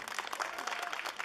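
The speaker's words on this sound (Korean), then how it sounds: "박수 한번 더 주시면." Audience applause at a traditional Korean music showcase held at a royal palace, following a gayageum performance; a steady, fairly faint burst of clapping with no voices over it.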